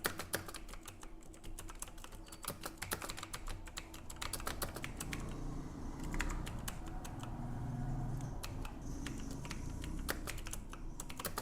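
Rapid clicking keystrokes on a computer keyboard during a typing test practice run, dense and uneven, with short pauses and bursts, close and clear with no talk.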